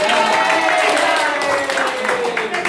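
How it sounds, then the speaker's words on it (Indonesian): Classroom students clapping their hands together, a loud, close flurry of claps with a voice talking over it throughout. "oke, tepuk tangan dulu."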